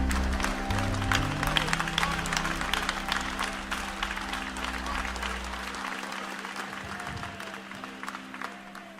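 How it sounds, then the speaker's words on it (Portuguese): A church congregation claps hands loudly in praise during a morning service, a dense, continuous round of applause that stays strong for the whole stretch with a low hum underneath. "e louvai a Jesus com as palmas bem forte"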